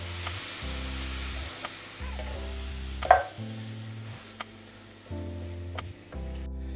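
Tinned chopped tomatoes sizzle in a curry pan already cooking with curry powder and cardamom, a soft, steady frying hiss close by with a sharper burst midway, under an intermittent low hum.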